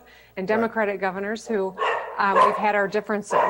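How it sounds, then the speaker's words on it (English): A dog barks in the background of an interview with a governor, sounding a few times under steady close-up speech. "that's the dog"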